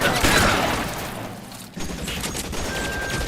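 Rapid video-game gunfire in L.A. Noire, a dense, loud fusillade of overlapping shots that thins briefly in the middle and then resumes steadily, with no talk over it.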